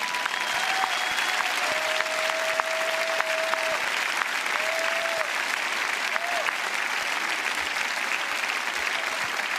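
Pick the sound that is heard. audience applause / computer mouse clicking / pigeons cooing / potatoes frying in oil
audience applause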